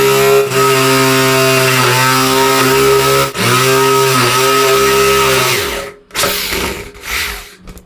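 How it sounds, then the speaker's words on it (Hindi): Electric drill machine set to drill mode boring into wood, a loud steady high-pitched motor whine with brief dips as the load changes, then winding down and stopping near the end. "लकड़ी में भी बहुत अच्छे से ड्रिल किया है"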